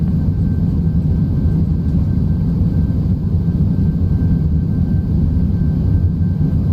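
PMDG 737-800 landing roll with thrust reversers in Microsoft Flight Simulator, a loud continuous low engine roar with a faint steady whine, no talk over it.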